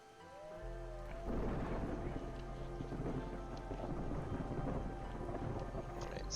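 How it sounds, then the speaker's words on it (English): A thunderstorm in the city-building game Against the Storm rolls in with a deep rumble of thunder and steady heavy rain on surfaces, building from quiet game music into a sustained roar. "Alright, storms brewing."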